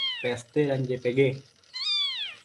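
Loud, high-pitched cat meows, a few insistent calls in quick succession followed by a longer drawn-out meow, heard alongside a person speaking.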